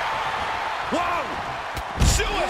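A wrestler's suicide dive crashes ringside at an NXT women's match, a heavy thud landing near the end over crowd noise, with commentary voices calling the action.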